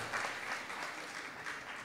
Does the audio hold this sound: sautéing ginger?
no